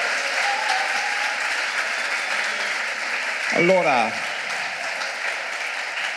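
Audience applause at an Italian-language history festival lecture: steady broadband clapping throughout, with a voice briefly speaking over it near the middle.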